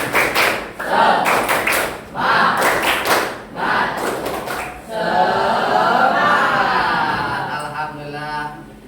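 Middle school students in a class doing a tepuk semangat spirit clap: several quick rhythmic bursts of group clapping, then a sustained burst of voices chanting together.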